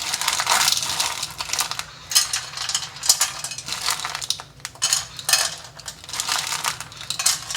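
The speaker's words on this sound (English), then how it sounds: "I'm just going to randomly put some crayons in" Broken crayons dropped one after another into a metal pan, a busy stream of light clinks and rattles, close and fairly loud with short pauses between handfuls, no voices.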